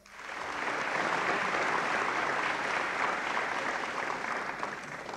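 Sustained audience applause at a Europcar corporate celebration in Italy, a dense, steady wash of many hands clapping that swells in quickly and holds at full strength throughout.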